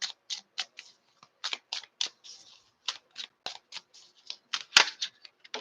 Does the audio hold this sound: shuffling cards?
yes